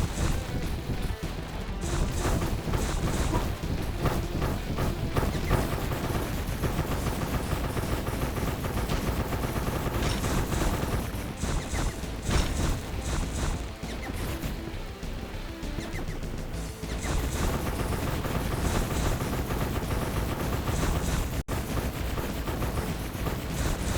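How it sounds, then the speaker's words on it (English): Continuous loud gunfire in the video game ARKOS, rapid overlapping bursts and bangs that keep going for over twenty seconds with only brief dips. "now he's starting to fire more bullets"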